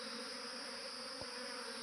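A swarm of honeybees flies around. Their faint, continuous buzzing hum holds steady throughout, with one brief soft tick partway through.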